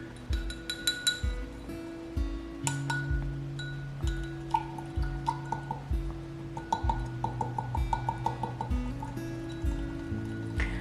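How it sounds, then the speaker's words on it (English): A whisk clinks rapidly against a glass bowl while baking soda is mixed into oils for homemade natural deodorant, giving steady close metallic taps over a low tonal background. "Sometimes the baking soda can be a little clumpy, so you want to whisk that out and get those lumps out of there."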